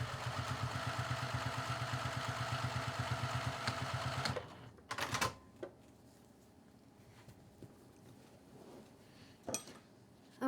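A sewing machine runs a fast, steady stitching whir for about four seconds, stitching a reinforcement rectangle of interfacing on a waist bag sleeve, then stops, followed by quieter handling clicks and thumps.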